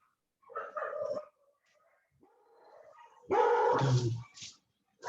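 A dog barks in short bursts, pausing between them, then lets out a louder, closer run of barks with some whimpering yips.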